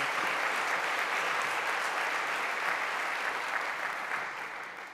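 An audience at a veterinary school white coat ceremony breaks into steady applause to welcome a speaker, dense clapping that holds evenly for several seconds before tapering off.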